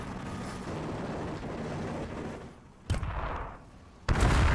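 Explosive rocket strikes in the Warhammer 40000 Battlesector strategy game, a Tyranid versus Ork tournament match: a rumbling battlefield din, then two sharp, loud blasts landing a second apart near the end.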